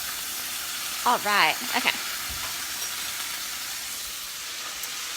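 Beef sears in a hot pan with a steady, loud hiss of sizzling, while someone briefly speaks near the start.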